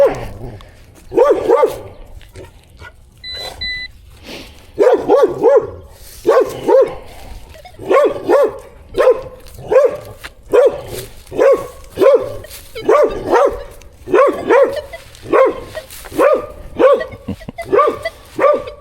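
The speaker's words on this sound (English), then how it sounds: "That dog barking is so loud." A dog barks loudly and close by at an outdoor metal-detecting dig, its barks coming in steady repeated bursts for the whole stretch, almost without pause.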